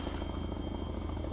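Helicopter in the video game ARMA 3, a continuous rhythmic rotor thump and engine drone, steady and fairly close, with no speech.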